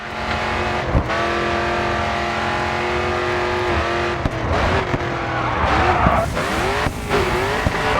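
A race car in the Grid 2 video game brakes hard into a turn, its engine note dropping in stepped downshifts while the tires squeal and skid, loud and close with no voices.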